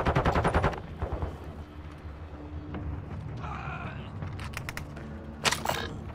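Rapid automatic gunfire rings out in a Call of Duty: Modern Warfare II match, a loud burst of bursts at the start, then scattered shots and a sharp crack near the end over battle ambience and radio chatter.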